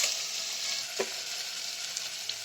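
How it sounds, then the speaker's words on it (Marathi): Spices with chili powder, onion-garlic masala and goda masala sauté in a pan, giving a steady bright sizzle with a brief stirring scrape. "आता हे व्यवस्थित परतून घेऊया."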